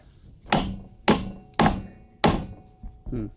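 Four sharp small-hammer strikes on a backhoe's metal tie rod ring out at uneven intervals, each with a short metallic decay, followed by a softer final knock.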